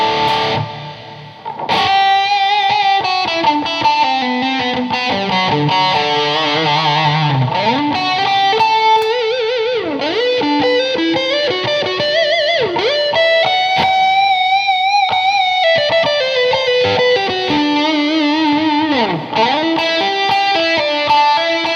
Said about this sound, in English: I'm gonna crank that all the way on the reverb.